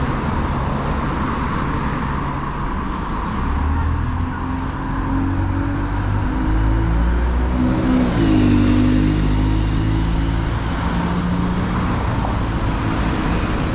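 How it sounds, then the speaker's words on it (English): An Enviro 200 bus pulls away, its engine note climbing and shifting through gears in a loud, close drone over continuous roadway noise. "our bus, the Enviro 200, is heading out"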